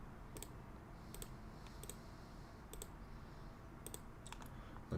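Keys are tapped on a computer keyboard to set a basic password, a few faint, sparse clicks in small clusters over a quiet background hiss.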